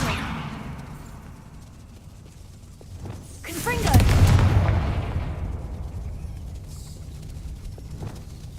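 A Confringo fire spell blast in Hogwarts Legacy erupts midway as a loud, booming explosive burst with a crackling tail, set against ambient game sound and a voice casting spells before it.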